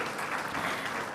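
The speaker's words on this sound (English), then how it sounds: "Can I have a round of applause," An audience at a defence conclave applauds after a panel session, a steady crowd clapping at moderate loudness that fills the whole moment with no voices over it.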